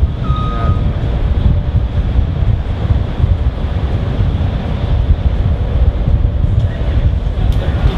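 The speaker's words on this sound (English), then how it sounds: "You know we're at the Contemporary when you see the monorail coming through the building." A Disney monorail train rumbles past loudly and continuously through the Contemporary Resort building, a heavy roar with wind-like rushing noise throughout, steady from start to finish.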